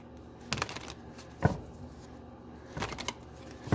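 Tarot cards being shuffled, with three quick riffling bursts separated by quiet pauses, close and fairly soft.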